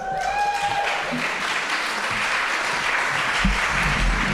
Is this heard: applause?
yes